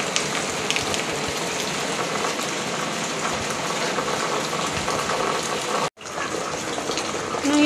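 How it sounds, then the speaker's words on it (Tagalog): Sudden heavy rain pours down over a residential subdivision: a dense, continuous hiss and patter at constant strength, briefly cut off for a moment before resuming. "Nangyari, biglang umulan."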